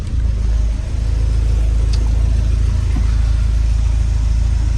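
A warm Porsche 924 2.0 automatic engine idles with a steady low mechanical hum and even pulse, close and loud, holding constant with only a faint tick or two on top.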